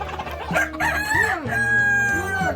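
A rooster crows loudly and close in a village hen yard, a long drawn-out call with clucking hens mixed in.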